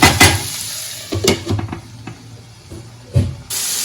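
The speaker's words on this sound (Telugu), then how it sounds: "మళ్ళీ మొత్తాన్ని కలిపి కొద్దిసేపు ఉడకనిద్దామండి" Egg bhurji stirred in a hot pan, with a steady close sizzle under several scraping, clattering spoon strokes that come in short bursts, no talking.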